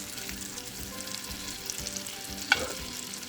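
Shrimp fry in a pan with a steady close sizzle and crackle throughout, marked by a single sharp metallic tap near the end.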